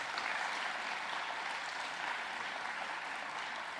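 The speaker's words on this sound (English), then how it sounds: "Big round of applause for the organizers here tonight" A crowd applauds the organizers at the 30th annual Focus on Youth evening in Mount Pearl, giving a thick steady wash of clapping that stays loud and even from start to finish.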